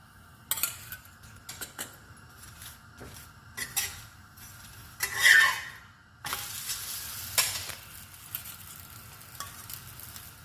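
Roti of sorghum and wheat flour cooking with oil on a hot pan, faint sizzling with intermittent metallic clinks and scrapes of a utensil turning and pressing the bread, no talk.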